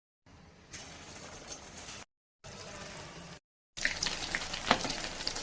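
Cabbage and cauliflower pakoras fry in oil, with a crackling hiss broken by two short silences, returning louder and busier with bubbling pops.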